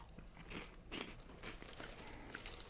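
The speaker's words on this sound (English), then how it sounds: "Especially the part where I'm chewing on fucking food" Someone chews food up close, with repeated wet crunching bites in an uneven rhythm, fairly quiet and with no talking.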